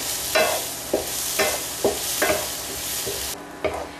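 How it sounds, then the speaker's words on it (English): Cashews frying with peppers in a pan give a steady sizzle broken by sharp pops and stirring scrapes at irregular intervals, close and fairly loud with no talking. "I hear the cashews starting to pop, which means we're getting close to being done."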